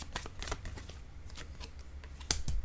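Tarot cards shuffle and get drawn close up, with soft, brief riffling flicks and light rustles at an irregular pace, then a sharper card snap near the end; quiet and without talk.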